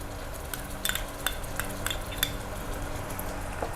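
Garlic paste fries in hot oil in a pan beside onion paste, with a soft steady sizzle and irregular scraping clinks of a metal spoon stirring against the pan.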